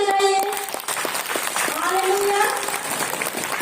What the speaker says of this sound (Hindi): ईश्वर के लिए जोर से ताली बजाइए।